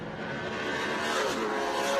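V8 sports sedan race cars, a Trans Am Ford Mustang and an ex-supercar Holden Commodore, roar at Wakefield Park, a steady loud engine drone swelling slightly as they pass.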